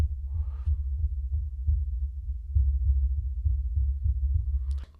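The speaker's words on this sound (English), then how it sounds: "now let's do some taps on the shock mount" Repeated taps land on the shock mount of a Fifine K688 microphone as dull, low thumps in a steady, rapid series, close and muffled, with no talking.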